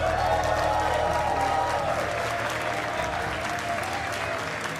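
A large indoor crowd at an Age of Empires esports tournament applauds and cheers in a steady, dense roar, fairly loud and continuous.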